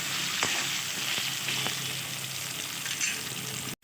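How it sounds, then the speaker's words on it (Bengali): Potatoes frying in oil with salt and turmeric, a steady close sizzle and hiss with a few soft stirring clicks, continuous throughout with no talk. "নুন আর হলুদ দিয়ে নেড়ে চেড়ে আলুগুলো আগে ভেজে নেব।"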